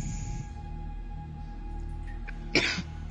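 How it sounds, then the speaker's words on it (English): A person coughs in a quiet room, with faint background sounds, then a short, sharp cough burst near the end. "He's coughing right now."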